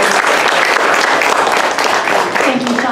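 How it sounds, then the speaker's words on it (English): A room of adults and young writers applauding at a youth writing awards event, a loud, dense clapping that fills the whole stretch with little change and scattered voices mixed in. "So a big round of applause to all the adults in the room who are supporting."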